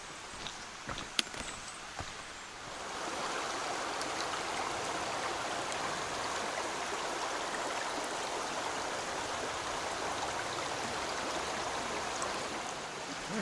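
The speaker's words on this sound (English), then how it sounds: "Alright, we're down here at the creek." Justus Creek on the Appalachian Trail flows in a steady, close rush of water, with a few faint taps at the start and no voices.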